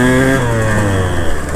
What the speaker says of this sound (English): This guy's on an old CR 125.